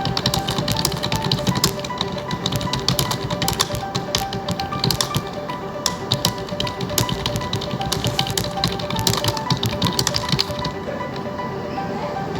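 Rapid, uneven clicking of a computer keyboard as someone types in Microsoft Word, dense close-up taps with brief pauses running continuously for several seconds.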